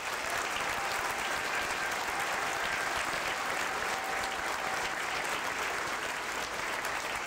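A crowd at a Hungarian political rally applauds in a dense, sustained roar of clapping that stays loud and even from start to finish.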